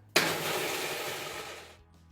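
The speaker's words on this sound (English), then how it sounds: "we'll just assemble our food processor here" A food processor pureeing black beans and oil starts abruptly and runs with a loud, steady whirring grind for about a second and a half before winding down.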